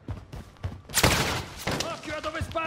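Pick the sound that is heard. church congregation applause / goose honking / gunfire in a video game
gunfire in a video game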